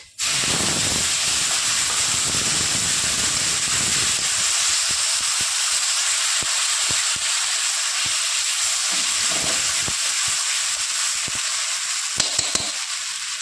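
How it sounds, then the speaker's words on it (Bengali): Ginger, onion and garlic paste drops into hot oil spiced with whole garam masala, bay leaf and cumin for a doi katla curry, giving a loud, steady sizzling hiss throughout with a few faint clinks of stirring. "এবার দিয়ে দেবো আদা, পেঁয়াজ, রসুনের পেস্ট।"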